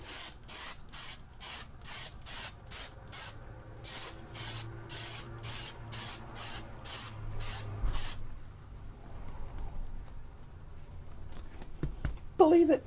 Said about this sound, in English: Dose of spray.